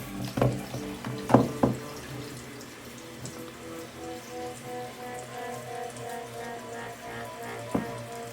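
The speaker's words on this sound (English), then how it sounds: "We should run a faucet and see what happens. Okay, I'll run the hot water first." A hot water faucet runs steadily in a house with a steady, even rush of water, opening with a few sharp knocks and clunks before settling into a continuous flow with no talking.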